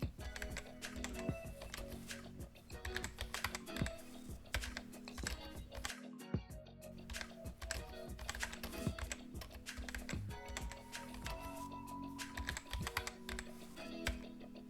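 Typing on a computer keyboard: steady, close, rapid key clicks continue throughout, with a brief pause midway.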